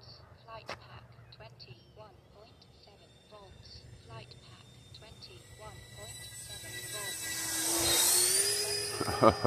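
A Freewing PJ50 1700mm RC jet turbine whines as it flies back in to land, its pitch rising and swelling louder toward the end while voices chatter nearby.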